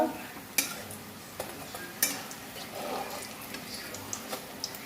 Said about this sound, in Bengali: এরকম করে করে সব বুক করে নেব এইভাবে ভেজে নেব ব্রেডগুলো